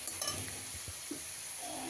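Sour spinach stirred into sizzling fried spices in a pan, a soft continuous frying hiss with a few muffled scrapes and knocks, quiet and close.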